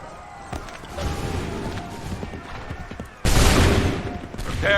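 A volley of musket-style gunfire from a line of soldiers in the Assassin's Creed 3 video game, a loud broadband blast at the end following scattered battle noise and shouted orders underneath.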